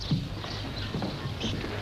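Horse hooves clip-clop at a steady walk as the Sheriff of Nottingham rides up in the 1955 Robin Hood adventure, a moderately loud, even patter with a faint background hum.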